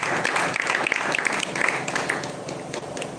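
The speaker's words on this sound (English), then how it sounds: "You should clap now, you should clap." Applause from an audience at a live-streamed talk, steady dense clapping throughout at moderate loudness, with some voices mixed in underneath.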